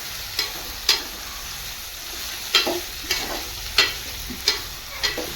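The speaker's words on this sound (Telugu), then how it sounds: "బాగా మనం మగ్గించుకున్న తర్వాత అలా లైట్గా మగ్గిన తర్వాత మనము టమాటాలు అయితే వేసేద్దాం" Tomatoes go into a frying potato curry in a home kitchen, bringing a steady sizzle broken by about eight sharp scraping stir strokes at an uneven rhythm, close and moderately loud with no talk.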